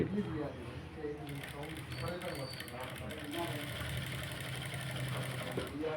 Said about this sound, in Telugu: మనం థ్రెడ్ పైపింగ్ ఎలా అయితే స్టిచ్ చేసుకుంటున్నామో అలాగే చేసేసుకుందాం